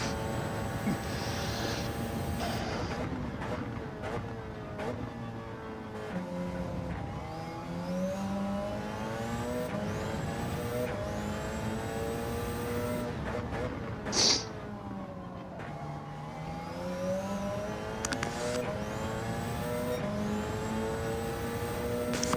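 A GT race car on the Daytona road course in a racing game revs hard through repeated rising and falling engine sweeps, loud and close, with a brief sharp burst midway and no speech over it.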